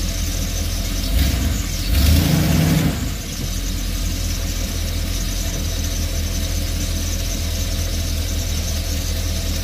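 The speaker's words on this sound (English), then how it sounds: "I'm letting it run through the gears to see if we can just get the fluids back through the system." An RV engine idles steadily while the transmission is shifted through its gears, with a brief squealing surge near the start before it settles into a constant hum.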